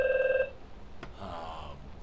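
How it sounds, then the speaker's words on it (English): A telephone bell rings in short repeated bursts for about half a second at the start, then stops, leaving only faint room noise. "We'll ignore that phone call."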